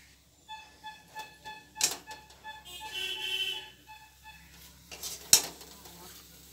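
Tomatoes tipped into frying masala in a pan while cooking an ol (elephant foot yam) sabzi, giving a brief clatter and sizzle among scattered pan and stirring clicks, close by.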